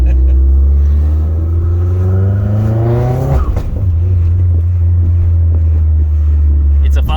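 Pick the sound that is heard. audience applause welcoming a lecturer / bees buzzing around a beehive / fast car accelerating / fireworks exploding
fast car accelerating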